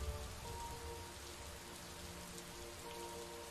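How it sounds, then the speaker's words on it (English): Steady rain pattering on surfaces in the Superliminal video game, a soft continuous hiss of drops with no clear thunder, faint and even throughout. "a nice thunderstorm here"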